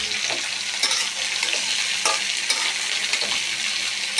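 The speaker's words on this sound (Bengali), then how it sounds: "ফ্রাই হয়ে গেলে এর মধ্যে দিয়ে দিলাম কেটে রাখা ভেন্ডি।" Chopped okra frying with green chillies in a pan, a steady dense sizzle with repeated scraping stirs and occasional clicks of the spatula against the pan.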